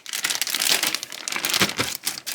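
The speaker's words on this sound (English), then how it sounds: "Then we're just going to zip that up." A plastic zip bag holding chestnuts and soy sauce crinkles and rustles loudly and continuously as it is sealed shut, close to the microphone.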